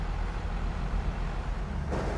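Low, steady tractor engine drone idling in a farming game, a constant rumble running alone throughout with no talk over it.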